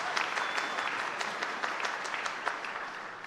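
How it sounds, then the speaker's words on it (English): A crowd clapping at a university Founders Day ceremony, a full, steady round of applause from a large audience that holds at an even level for a few seconds. "Would you please give her a round of applause?"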